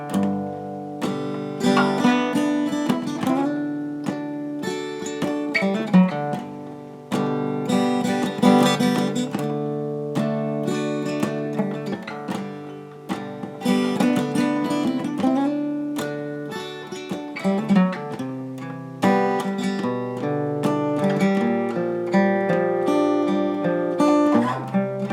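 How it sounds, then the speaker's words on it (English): Acoustic guitar plays the soft closing section of a song, gently arpeggiated chords ringing out one after another, clear and close with no voice over them. "Ending of the song is a much softer version of the opening of the song."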